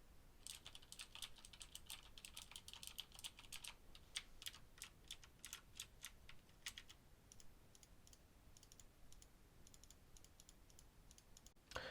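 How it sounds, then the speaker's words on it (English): Rapid clicky mechanical keyboard typing on Cherry MX Blue switches fills most of the stretch, with a few sharper mouse clicks, then the keystrokes thin out and fade toward quiet. "a little bit of a demo with Cherry MX Blue switches for the worst case scenario, and some mouse clicks"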